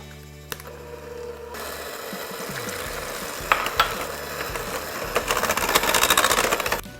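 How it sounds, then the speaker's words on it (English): Eggs being mixed into cake batter one at a time, heard as a steady, close whirring drone with rattly, mechanical texture that swells slightly toward the end, with no talking. "Give it a good mix after each addition."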